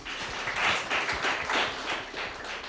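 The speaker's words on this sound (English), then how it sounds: "We can clap for Candy." Audience applause for a panel guest at a teens' panel discussion, a steady wash of many hands clapping at moderate loudness throughout, with no talking.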